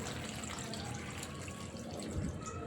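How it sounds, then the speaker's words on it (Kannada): Water poured into a pot of potato, cauliflower, beans and carrot, a soft steady splashing pour lasting a few seconds, faint and close. "ಜೊತೆಗೆ ಸ್ವಲ್ಪ ನೀರು ಸೇರಿಸಿ"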